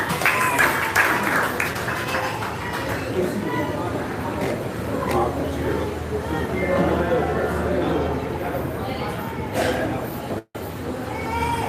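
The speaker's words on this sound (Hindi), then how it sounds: "आप तालियां बजा सकते हैं।" Applause from a gathered audience at a meditation session, steady dense clapping with some louder individual claps that continues for several seconds, cut by one brief gap near the end.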